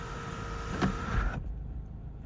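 The power sunroof on a 2007 Mazda 3s Grand Touring slides back with a steady electric motor whir and hum heard from inside the cabin, stopping abruptly with a faint clunk partway through.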